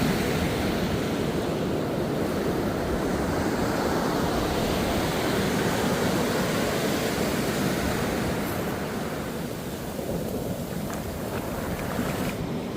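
Ocean waves wash onto a sandy beach scattered with kelp, a continuous broad roar of surf mixed with buffeting wind noise, steady and fairly close for the whole stretch.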